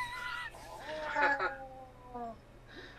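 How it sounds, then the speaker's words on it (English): A Gremlins (1984) creature sound effect made from cat noises in a swimming pool, with wavering, yowling, meow-like cries that rise and fall over a low background hum. "Isn't it cat noises in a swimming pool?"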